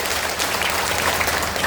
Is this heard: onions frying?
no